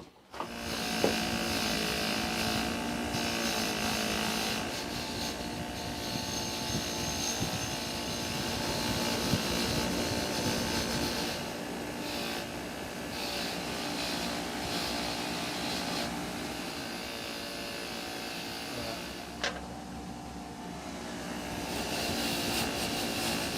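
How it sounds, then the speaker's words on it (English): A wire wheel scrubs the original bolts from a 1954 Wilton Bullet vise, a sustained loud whirring grind with shifting pitch and a few brief surges as the bolts are worked against it. "I'm going to wire wheel and clean up these bolts"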